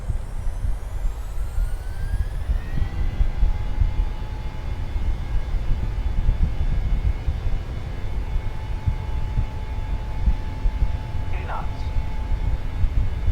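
Boeing 737-600 jet engines spool up for takeoff in Microsoft Flight Simulator 2020, a steady low roar that builds as whining tones rise over the rumble and holds loud throughout.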